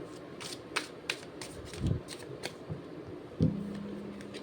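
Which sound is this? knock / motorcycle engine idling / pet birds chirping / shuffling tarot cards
shuffling tarot cards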